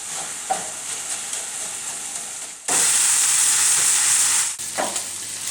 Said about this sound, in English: I'm going to dump my rice in the middle and brown the rice.